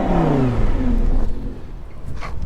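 A 2010 Lamborghini Gallardo LP560 V10 with an aftermarket exhaust revs up hard, the engine note climbing and then falling away into a lower rumble and faint settling; close and loud with no talking.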